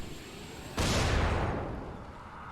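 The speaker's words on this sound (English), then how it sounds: "Oh god, I just heard that explosion" In the zombie game Dying Light, a sudden deep explosion booms and then rumbles as it decays over about two seconds, loud and broadband, with no talk over it.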